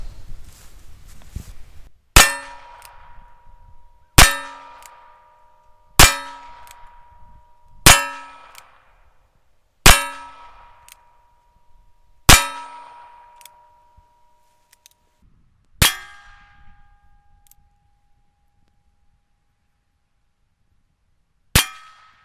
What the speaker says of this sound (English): let's put some more rounds in here and hit this steel and see what kind of pattern we leave shooting one-handed